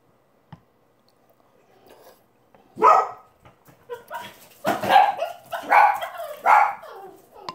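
Dogs bark indoors in a series of sharp, close barks and yips, starting with scattered faint sounds and building into about six loud barks in quick succession.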